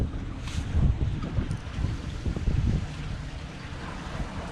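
Sea wind blows over the Danube near Vilkovo, buffeting the microphone in gusty, rumbling bursts over a continuous rush of open air, with no voices.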